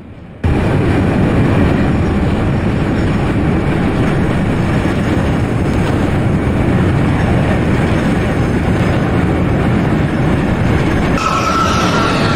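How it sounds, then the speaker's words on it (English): A Manhattan-bound NYC subway R160B F local train in the Openbve train simulator game runs with loud, steady broadband rumble and rolling noise that starts abruptly and continues unbroken, with a high whine from the traction motors. "This is a Manhattan-bound F local train."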